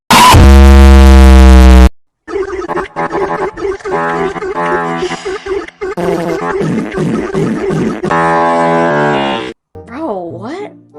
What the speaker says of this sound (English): Man went to 3 different fart gears in like 1 second.